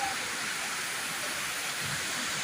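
Heavy monsoon rain pours steadily at a flooded grain market shed in Rawla, a dense, unbroken hiss of falling water at moderate level with no pauses or voices.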